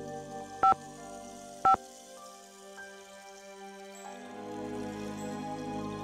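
Telephone keypad tones in the Nancy Drew game The Secret of the Scarlet Hand: two short, clear button beeps about a second apart, over a quiet ambient music bed.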